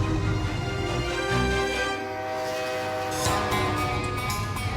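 A fuel-supply train rolls past on an icy railroad with a long, loud horn blast sounding over the rumble of the cars.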